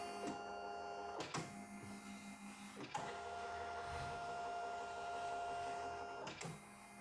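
A CNY E900 embroidery machine runs steadily with a continuous mechanical hum and whir, broken by a few sharp clacking jolts as the head moves, fairly faint and with no voices.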